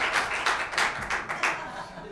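Audience applause at a talk, a brief spell of distinct hand claps in an uneven rhythm, fairly close and moderately loud.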